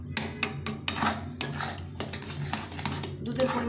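Semolina cooks in a pan for barfi while a metal spoon stirs it, scraping and clinking against the pan in quick, uneven strokes close to the microphone.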